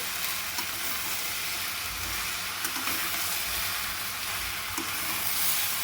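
Okra stir-frying in a pan for an Andhra-style okra fry, a steady broadband sizzle with faint low rumbling and occasional soft stirring scrapes, close and continuous with no talk.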